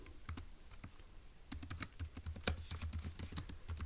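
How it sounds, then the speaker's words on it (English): Quick bursts of clicking keystrokes on a computer keyboard as notes are typed, quiet and close with short pauses between flurries, no voice. "So let's go ahead and type that up in our notes."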